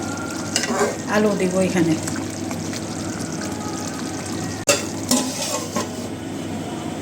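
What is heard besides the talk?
chicken curry being stirred and fried in a pan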